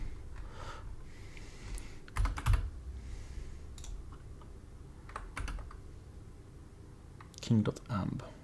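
Typing on a computer keyboard in short bursts of quiet clicks, separated by pauses, with a few louder knocks and sniffs close by.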